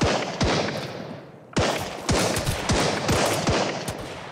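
Gunshots from the Sunkenland survival video game ring out in a run of sharp, loud cracks, about seven separate shots spaced irregularly with short pauses, close and punchy, with no talking over them.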